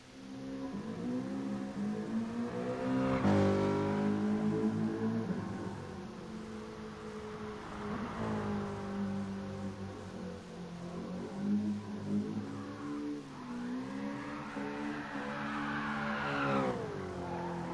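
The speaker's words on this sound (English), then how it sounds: "It's a very nice car to drift" A car drifting in GT Sport, its engine revving up and down in repeated sweeping surges while tires squeal through long slides, continuous and fairly close, with no one talking.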